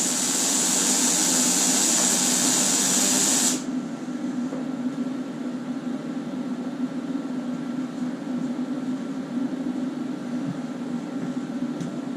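A Weldpro 200 GDSV welder runs a bead with a loud, smooth, crackling hiss for about three and a half seconds, then the arc stops abruptly and only a low, steady machine hum remains.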